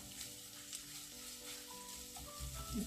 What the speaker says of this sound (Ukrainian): Нам потрібно, щоб цибулька ця карамелізувалася.